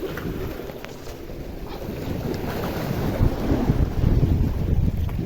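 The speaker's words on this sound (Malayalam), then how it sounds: "ഹെവിയാണ് കടൽ, ഭയങ്കര ഓളമാണ്." Rough sea heard from a fishing boat off Chellanam harbour, Kerala: heavy wind buffeting the microphone over sloshing, churning waves that grow louder toward the end.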